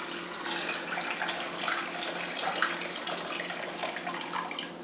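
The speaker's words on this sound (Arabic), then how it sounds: "هلا بدي احطها على الحمص" Hot water is poured from a kettle onto dried chickpeas in a bowl while making hummus with tahini, a steady broadband splashing gush that runs continuously and close by, with no talking.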